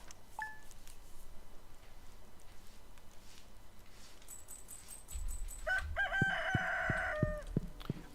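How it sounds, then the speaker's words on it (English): A rooster crows in the farming video game Stardew Valley, a short bright call that rises over quiet game ambience and is followed by other chiming game sound effects. "every day the thing that wakes you up is a rooster"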